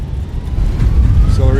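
Reverse thrust on a Delta airliner landing at Charleston in Microsoft Flight Simulator gives a loud, steady, deep engine roar that swells and holds throughout.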